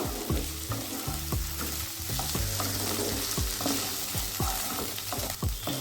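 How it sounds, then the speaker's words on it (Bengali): Mashed potato with chicken filling fries on low heat in a pan for crispy chicken patties, a steady sizzle broken by repeated scraping stirs of a spatula, close and continuous throughout. "আর আলুটাকেও এর সঙ্গে একটু ভেজে নেব"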